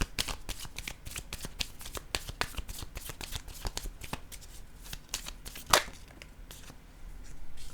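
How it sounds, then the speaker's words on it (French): Tarot cards are shuffled by hand, a close, rapid series of crisp riffling flicks and slaps with one sharper snap near the end, as cards are laid down for a reading. "Je vais déposer une carte pour ici."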